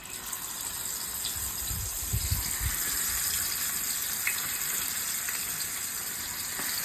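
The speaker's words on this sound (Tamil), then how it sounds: "சாலை மீன் பொரிக்க போகிறேன்" Salted, spiced sardines fry in oil on a dosa griddle, giving a steady faint sizzle with occasional small pops and some low clattering handling sounds.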